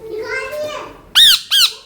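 A pet parrot at a riverside pilgrimage site gives two loud, sharp, squawking calls in quick succession, close by, right after someone speaks to it.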